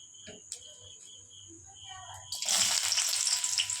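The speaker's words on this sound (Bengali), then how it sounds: "এবার এর মধ্যে সবজিগুলোর মধ্যে গাজরগুলো কড়াইতে দিয়ে দেবো ওই তেলেই।" Chopped carrots go into hot oil in a wok, and a sudden bright sizzle bursts up in the second half and keeps crackling, following quieter kitchen sounds.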